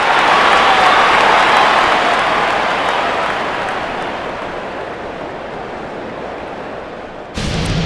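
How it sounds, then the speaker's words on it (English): Home crowd applause and cheering in the baseball video game MLB 09: The Show, a broad, loud ovation that fades gradually over several seconds and is then cut off abruptly. "So he receives a nice ovation from this home crowd"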